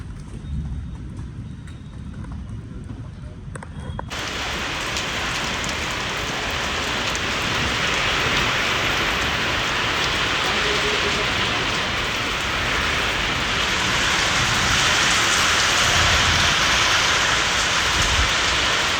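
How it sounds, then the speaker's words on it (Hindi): Heavy rain pounds steadily during a storm, a dense, loud wash that swells after the first few seconds and holds without a break; no distinct thunderclap stands out. "अभी मुझे लग रहा है तूफान कहीं और जा रहा है"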